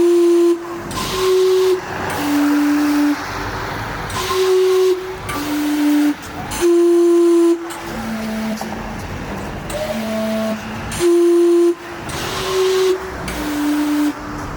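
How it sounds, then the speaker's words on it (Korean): An old steam clock tower in snowy Otaru sounds loud, sustained whistle tones in repeated bursts, over a steady hiss of steam. "오래된 시계탑이 여전히 증기와 소리로 시간을 알리고 있다"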